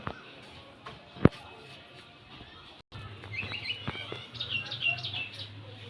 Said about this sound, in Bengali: এই নিম ফলগুলো খেতে টিয়া পাখি আসে মাঝে মাঝে, জানিস দিদি? সকালবেলা টিয়া পাখির খুব আওয়াজ পাওয়া যায়